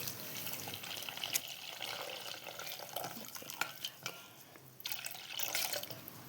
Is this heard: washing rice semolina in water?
yes